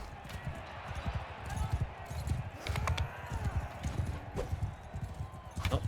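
Several horses gallop in a Khuzait tournament in Mount & Blade II: Bannerlord, a steady drumming of hoofbeats that stays close and continuous for the whole stretch, with a voice talking over it at times.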